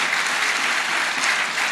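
A church congregation at an evangelistic service breaks into dense, steady applause, a continuous wash of many hands clapping at moderate volume throughout.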